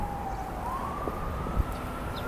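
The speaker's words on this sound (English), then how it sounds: "There's an ambulance over there with its lights on driving up the street." An ambulance siren wails faintly in the distance on a city street outside a New York hospital, a thin rising tone over low traffic rumble.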